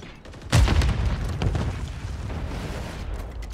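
Gunfire in Call of Duty MW3 ranked Control: a sharp loud shot burst followed by further booming reports and echoing rumble, close and punchy.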